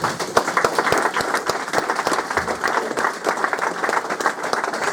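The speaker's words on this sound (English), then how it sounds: "So please give yourselves a round of applause." An audience at a BTCC media day for a racing team claps together in a dense, steady round of applause that carries on without a break, with a few faint voices mixed in.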